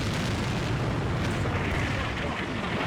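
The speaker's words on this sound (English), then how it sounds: "Barrage is still going on" Dense, continuous artillery barrage from the Combat Mission: Beyond Overlord WWII strategy game, a steady rumbling roar of overlapping explosions with no distinct gaps, heard alone without any voices.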